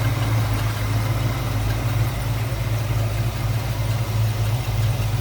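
A 1966 Ford Mustang coupe with a 302 V8 and Edelbrock four-barrel carburetor idles with a deep, steady, even rumble and a constant hum, heard close up with no other sounds.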